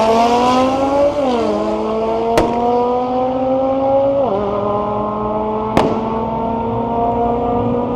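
Diesel BMW doing a burnout at a drag race event, a loud sustained engine drone with revs stepping down and holding, punctuated by two sharp cracks.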